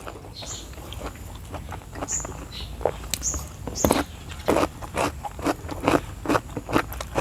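Crisp, irregular crunches and scrapes from biting into fried chicken wings with fish sauce, eaten alongside a fresh shrimp som tam salad, sounding close and repeated in quick bursts with no talk.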